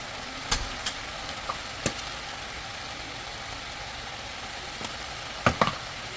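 Mushrooms and vegetables sautéing in a pan as a stir fry, a low steady sizzle with a few sharp pops and clinks of utensils against the pan, fairly faint and without talk.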